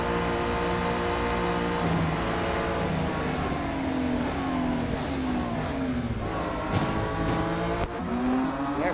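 A GT4 race car in the Real Racing 3 video game screams through its gears, the engine pitch climbing and dropping repeatedly with brief shifts and squealing tires, loud and steady with no voices.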